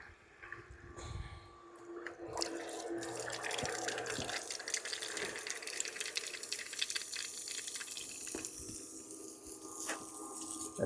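A submersible sump pump runs in a pool of water, making a steady watery rush and gurgle that holds at an even level throughout, close by.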